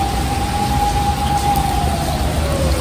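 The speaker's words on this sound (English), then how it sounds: "Lightning emergency siren." A lightning emergency siren holds a steady tone then slowly slides down in pitch, heard through heavy rain-like noise that fills the background.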